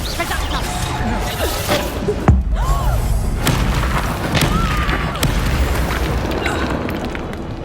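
Confringo blasting spell from the Hogwarts Legacy video game bursting with a deep boom and rumbling impact, layered over game ambience and background effects, followed by lingering low rumble; a voice is heard in the scene.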